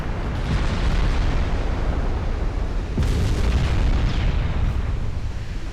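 Naval guns strike a ship during a naval video game, with a Greek ship among the vessels in play: a sustained, loud, rumbling roar of explosions, with heavier booms bursting out near the start and again around midway, no voices.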